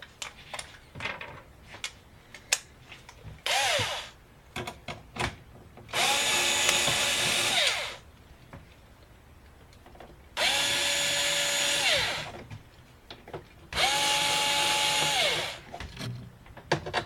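A power drill removes screws from an HP TouchSmart all-in-one desktop computer in three separate whirring bursts of about two seconds each, with short spin-up and spin-down, separated by quiet handling clicks.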